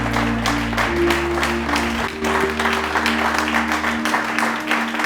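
A church congregation claps together in steady applause, a dense continuous patter of many hands close by, with faint voices and a sustained organ or keyboard tone underneath.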